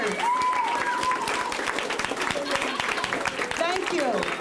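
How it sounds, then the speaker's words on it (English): An audience at a Black History Month school academy presentation gives a round of applause to seventh grade teachers, steady close clapping throughout with a voice speaking over it and brief cheers. "give a round of applause to our 7th grade teachers."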